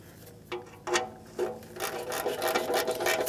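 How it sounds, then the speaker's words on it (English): Heat shield bolts on a Toyota RAV4 2.5L being hand-tightened: a few short scraping rasps of metal threads, then a longer run of rapid ratcheting friction, close and moderately loud. "I'm just gonna bottom them out by hand."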